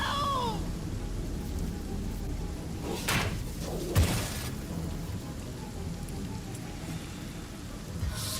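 A rain and thunder spell cast in the video game Divinity Original Sin: steady heavy rainfall hissing throughout, with a couple of sharp thunder cracks around the middle, no talking.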